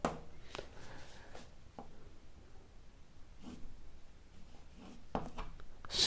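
Chalk or a marker scratching across a board during a chemistry lesson, heard as faint, intermittent strokes and short scrapes at close range, with no speech over them.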